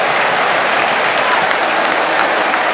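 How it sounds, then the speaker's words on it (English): Home supporters in a stadium crowd applaud during a 1995-96 UEFA Cup football match between Olympique Lyonnais and Nottingham Forest, a loud, continuous roll of clapping with no breaks. "a few applause from the home supporters"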